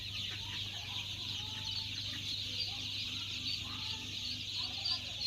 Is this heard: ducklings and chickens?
yes